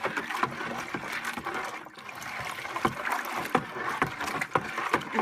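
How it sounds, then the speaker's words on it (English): A wooden spoon stirs homemade laundry detergent in really hot water, giving a series of soft sloshing swirls with faint scrapes and light clunks against the container, close up and fairly quiet. "And then I'm going to take my wooden spoon, and I will stir this around."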